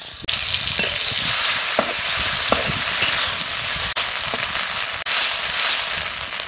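Onion paste frying in hot oil for a cabbage egg curry, a loud crackling sizzle that starts abruptly and runs on with stirring clicks and brief dips, no speech.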